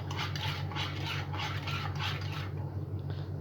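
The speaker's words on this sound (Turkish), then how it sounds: "Daha büyük bir kaşık aldık arkadaşlar şöyle. Karıştırıyoruz." A large spoon stirs a homemade baby food mixture in a pot, giving a steady rhythmic scraping swish that repeats roughly every third of a second, close and fairly loud, with no talk.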